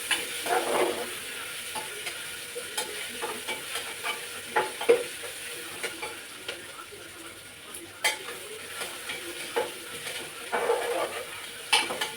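Peanuts tossed into hot oil in a pan and stirred for masala rice: a soft sizzle runs underneath while the spoon scrapes and clinks against the pan in quick, irregular bursts, close by, with no talking.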